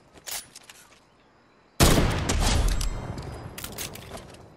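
Sniper rifle shots in an online shooter: a sharp crack early, then a much louder booming blast with a long rumbling tail, followed by further sharp cracks near the end.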